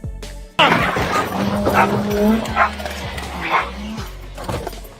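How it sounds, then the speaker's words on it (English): A police dog yips and whimpers excitedly amid shouting officers during an arrest, with short sharp vocal bursts recurring throughout. "You're gonna get bit with a dog!"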